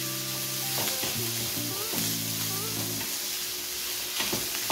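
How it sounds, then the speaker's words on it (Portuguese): Onion browning in a hot pan gives a steady, close sizzle with occasional stirring scrapes, while a tonal hum with wavering pitch runs underneath much of the time. "Vamos dar uma dourada nessa cebola."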